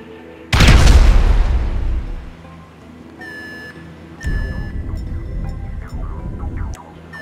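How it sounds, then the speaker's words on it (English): A heavy synthetic explosion boom in GTA 5 erupts with a deep rumbling tail, followed by electronic beeps and a second, softer rumbling blast, typical of game sound effects. "An explosion will tend to do that."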